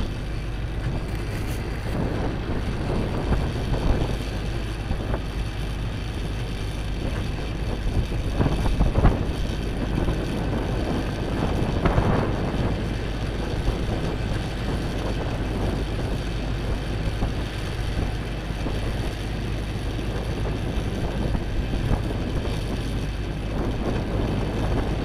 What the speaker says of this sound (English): the wind's gonna take it away